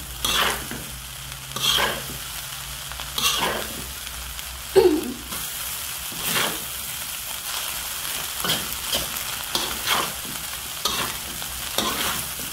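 Fried rice seasoned with white and black pepper is stirred in a pan, a steady sizzle broken by repeated scraping strokes of a spatula every second or two, close and alone.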